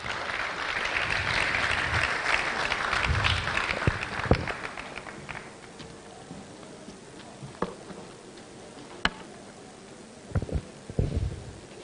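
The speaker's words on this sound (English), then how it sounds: "Please, a round of applause for Professor Okonofor." Audience applause at a university public lecture on reproductive health innovation, a sustained wash of clapping that fades after a few seconds into scattered, sparse claps and faint room noise.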